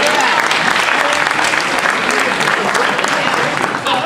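An audience applauds and cheers loudly and steadily at a comedy performance, a thick continuous wash of clapping with some crowd voices mixed in.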